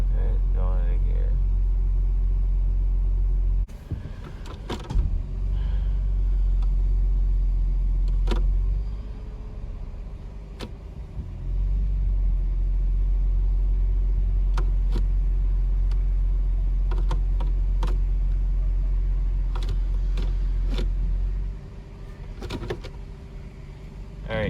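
Dodge or Chrysler car, a Magnum or Charger type, running after being shifted into gear during a transmission fluid service, giving a steady low engine rumble up close, with brief clunks and a dip in level midway.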